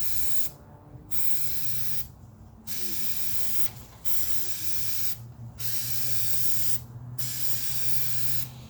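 K&N filter oil sprayed onto a turbo air filter in five or six distinct hissing bursts, each about a second long with short gaps, loud and close over a low steady background hum.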